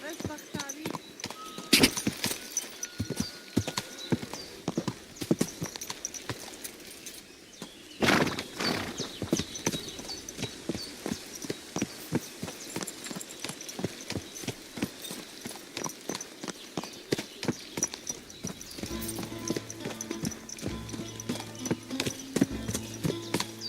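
Horse hooves clip-clop in the medieval video game Kingdom Come: Deliverance II, a brisk repeated trot that rises and falls in pace, with a voice talking over parts of it and faint birdsong in the background.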